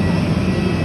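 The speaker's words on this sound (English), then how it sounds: "Planes right here on the tarmac." Airliners idle on an airport tarmac in Cusco, Peru, a loud steady low jet-engine rumble with a constant high whine, heard briefly and without speech.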